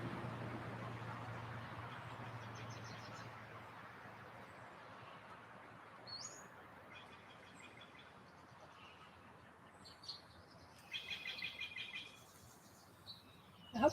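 Faint birdsong chirps and twitters at a distance over a steady outdoor hiss, growing a little busier toward the end.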